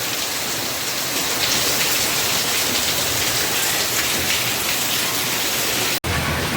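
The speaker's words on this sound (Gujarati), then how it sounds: "આવો છે વરસાદ જો" A loud, constant summer downpour in Surendranagar hisses and patters on surfaces and a flooded road, then cuts out abruptly for an instant near the end.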